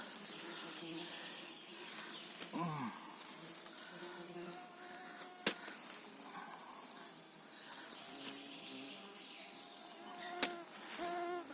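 Mosquitoes and horseflies buzzing in a hot summer forest, faint whining drones under a busy outdoor ambience with birds and a few sharp clicks, no speech in this stretch.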